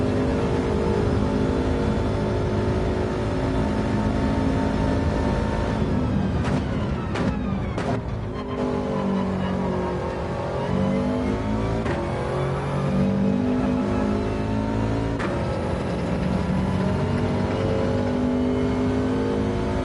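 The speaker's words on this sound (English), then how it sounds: "WRX seems to be have a bit more punch than the others that I've tried" A Subaru WRX engine revving hard under acceleration, a loud sustained roar climbing and dropping through the gears with brief shifts, heard from close inside the car.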